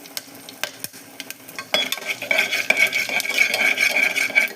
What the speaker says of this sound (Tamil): இப்போ இந்த மசாலா ஜாமான்லாம் போடுறோம். பட்டை, கிராம்பு எல்லாமே போடுறோம்.